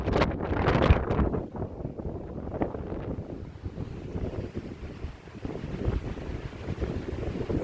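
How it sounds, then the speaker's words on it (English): Strong wind buffeting the microphone at a dispersed campsite on the Mogollon Rim, gusty low rumbling and roaring in uneven surges that swell and ease throughout. "Very windy."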